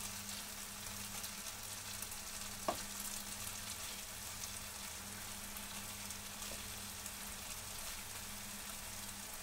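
Pork frying in a pan is stirred, giving a faint, steady sizzle with one soft clink of a utensil, heard alone without voices.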